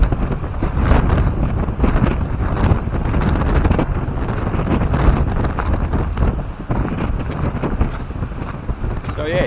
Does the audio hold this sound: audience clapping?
no